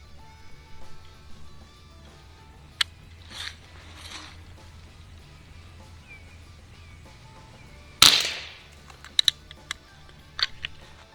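A pump Crosman American Classic air gun on 8 pumps fires pellets at drink containers offhand. The surroundings are quiet, with a few sharp cracks and impacts. The loudest snap comes late, followed by smaller clicks.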